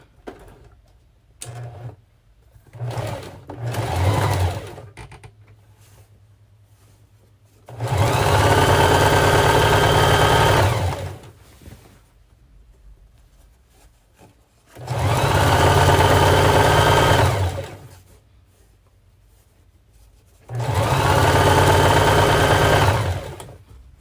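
A sewing machine stitches a fabric head wrap in three long steady bursts of loud, even motor whir, each several seconds long, with quiet handling noises and short stops in between.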